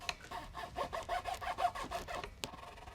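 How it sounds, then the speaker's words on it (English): Quick back-and-forth rasping strokes of a file cutting a string slot in a cheap plastic guitar nut on a PRS SE Custom 24, close and rhythmic, about a dozen strokes. "That's a little quick hack job way of filing your nut though."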